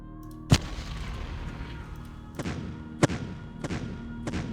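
Mortar fire in a World War II Ardennes strategy game: about five sharp booming blasts, each trailing off in a short echoing rumble, spaced irregularly over a low steady background with no voices.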